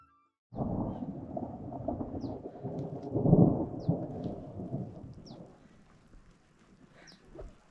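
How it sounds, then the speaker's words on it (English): Thunder rumbles over Cusco, Peru, a long, deep rolling peal that swells to a loud crack-like peak and then slowly fades, with light rain in the background. "we just caught the tail end of about 10 seconds of thunder"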